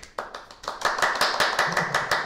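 A handful of people clapping at a photography group exhibition, starting with a few scattered claps and building into steady, close, fairly loud clapping by a small group.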